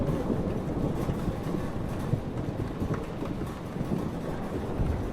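Stormy weather in the video game Life is Strange, Episode 5 Polarized: steady, loud wind roar with low rumbling throughout, a dense, continuous wash of noise and no voices.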